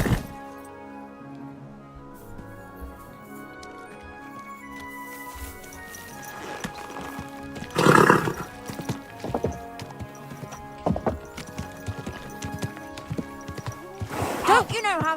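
Horse hooves clip-clop and a horse snorts in the video game Kingdom Come: Deliverance II, irregular footfalls with a few louder bursts, under quiet game music and ambience.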